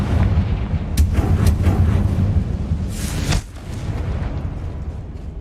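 A Confringo blasting spell explodes in Hogwarts Legacy. Sharp blasts and a heavy booming rumble are followed by one bigger burst that drops into a lower roar. No one speaks.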